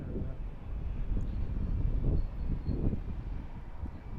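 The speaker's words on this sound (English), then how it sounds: "So you can hear that engine sound there." Deep, droning airplane engine roar at an airport, steady with surging pulses, fairly loud and continuous.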